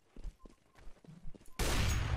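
A sudden burst of loud, harsh noise cuts in after scattered quiet movement and clicks, a gunshot through a wall in CS:GO that lands a headshot during a competitive match.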